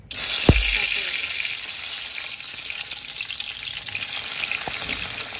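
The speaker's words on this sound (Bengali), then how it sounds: "আমি আগে প্রথমে বেগুনটাকে ভেজে নেব" Eggplant frying in oil, a steady bright sizzle that runs throughout after a brief thump near the start.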